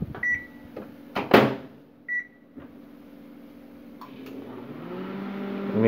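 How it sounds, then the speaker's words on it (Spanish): A GE microwave oven, its relay repaired, starts up after a few beeps and clunks, then its motor hums steadily and grows louder, close by. "El microondas funciona bien."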